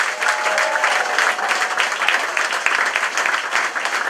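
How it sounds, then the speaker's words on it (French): A crowd at a 2014 French municipal election list presentation breaks into continuous applause, a loud, thick, even roar of clapping that holds steady throughout without pause. "Loveski Kevin, que je vous demande d'applaudir."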